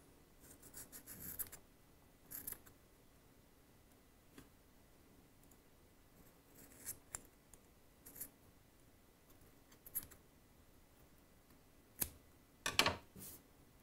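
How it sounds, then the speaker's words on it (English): Scissors snipping excess cotton wick on a rebuildable vape atomiser coil, a series of faint, quiet clicks and snips spread irregularly, several small cuts heard close up in a hushed room. "So just take a pair of scissors and just trim it off."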